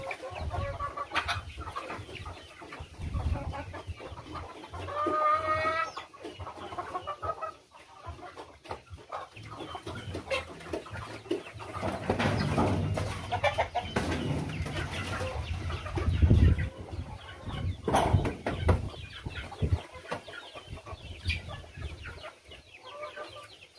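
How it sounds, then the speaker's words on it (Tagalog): Pet chickens and chicks cluck steadily on a farm after being fed, with a rooster-like call now and then, busy and fairly close, with some thumps and farmyard activity underneath throughout. "pinakain na yung mga alaga nating manok, saka yung mga sisiw"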